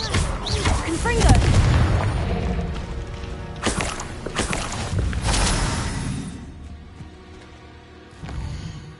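Hogwarts Legacy's Confringo fire spell bursts with a heavy booming blast, then more thuds and impacts roll out as the noise fades over several seconds, with a player's voice speaking through it.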